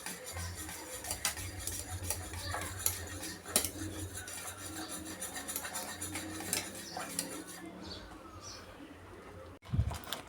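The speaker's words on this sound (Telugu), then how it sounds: "అందుకని కలుపుతూనే ఉండండి." Continuous scraping and clinking of a utensil stirring an ice cream mixture in a pot over a high flame, steady and close with occasional sharper knocks and a soft thump near the end.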